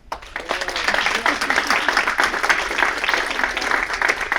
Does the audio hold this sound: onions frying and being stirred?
no